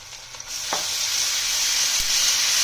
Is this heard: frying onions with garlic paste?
yes